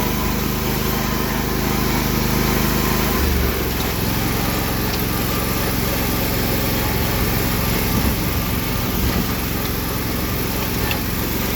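A Sears Suburban garden tractor with loader runs steadily nearby, a loud constant small-engine drone with a slight dip and rougher texture partway through, no voices.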